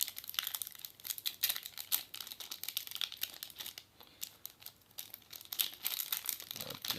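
A Pokémon booster pack from a Rayquaza set is torn open, its foil wrapper crinkling and crackling in close, continuous bursts for several seconds, with no talk over it.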